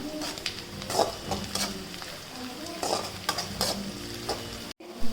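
Onions and bay leaves fry in oil for a chicken gravy, a close crackling sizzle with repeated scraping stirs and a few utensil clinks against the pan.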